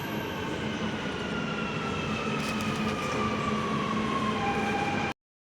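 Rumble of a Dubai Metro train passing through the station beneath a street, heard from above as a steady, continuous roar with a faint whining tone that holds for about five seconds and then cuts out abruptly.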